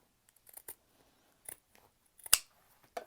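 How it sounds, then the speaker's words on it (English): Pinking shears and regular scissors snip through a fabric seam allowance on a bag's curves and corners, giving quiet, close, sparse crisp cuts in small irregular clusters against near silence. "I'm going to use pinking shears on the curves, and then just my regular scissors everywhere else."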